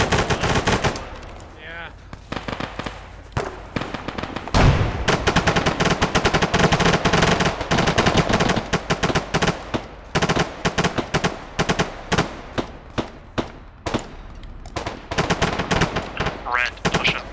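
Dense, loud gunfire fills a video game firefight, with continuous automatic bursts and overlapping shots crackling almost nonstop, while a voice briefly speaks over the shooting.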